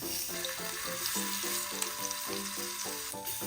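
Dry-aged ribeye, Australian Wagyu and A5 Wagyu searing in beef fat in a hot pan, a loud continuous sizzle with steady crackling throughout and a faint tonal hum beneath, no talking.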